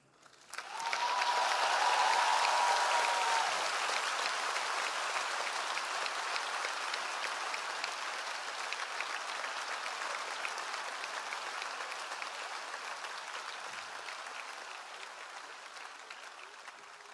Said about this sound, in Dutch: dat is dan het hardste applaus van de hele avond.